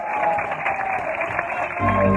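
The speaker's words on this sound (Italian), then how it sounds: "E lo facciamo un applauso forte al pizzaiolo, al grande Salvatore. Un applauso forte e complimenti." Live audience at a pizza maker's show in Canegrate applauds and cheers the pizzaiolo Salvatore, a steady dense clapping wash at close range with crowd noise and a low rumble surging near the end.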